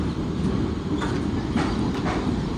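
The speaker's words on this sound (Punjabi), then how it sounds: "ਹੁਣ ਦੇਖੋ ਟ੍ਰੇਨ ਆ ਰਹੀ ਹੈ ਤੇ ਸਾਡੀ ਵਾਲੀ ਟ੍ਰੇਨ ਇਹ ਹੈ" A passenger train pulls into a railway platform in Karnataka, its heavy steady rumble and faint rhythmic clatter filling the whole stretch at close range, with no voices over it.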